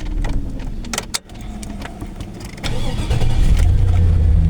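The engine of a 2001 Chevrolet Silverado pickup cranks briefly with a few clicks, catches, and settles into a loud, steady idle rumble close by.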